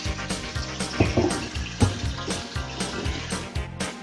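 Water runs while a pot is rinsed after the scum is drained during cooking of Ukrainian kholodets, splashing in an uneven rhythm with repeated knocks and clatters of the pot.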